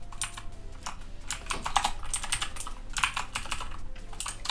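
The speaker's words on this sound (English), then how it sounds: "What's going on with my typing today?" Rapid, uneven clatter of typing on a computer keyboard, close and clear, with bursts of keystrokes and short pauses over a low background hum.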